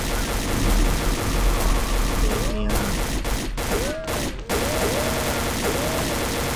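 Gunfire in the video game XSHOT Revolution, from a mummy-themed Nile river valley stage: dense, continuous rapid shots form a loud barrage, with a few sharper cracks and brief chirping game effects.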